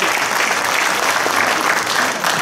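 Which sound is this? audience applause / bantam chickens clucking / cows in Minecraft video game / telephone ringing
audience applause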